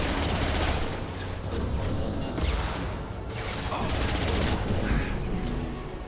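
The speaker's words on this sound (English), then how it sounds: "Why am I having such a hard time shooting him?" Gunfire in the Mass Effect Legendary Edition video game, bursts of rapid shots and impacts in a busy firefight, moderately loud and continuous, with a voice talking at times.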